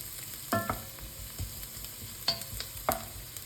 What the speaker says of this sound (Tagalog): Kailangan bang i-brown natin ng bawang, Mr.?